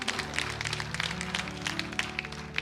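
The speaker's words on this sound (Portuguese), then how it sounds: "Pode aplaudir o Senhor Jesus." Church congregation clapping during a service, a brief burst of many hands with distinct claps over a low sustained hum or organ tone.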